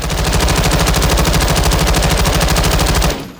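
Fightlite MCR firing in Call of Duty Modern Warfare II, a rapid sustained burst of automatic gunfire at an even cyclic rhythm for about three seconds, loud and close, then cutting off.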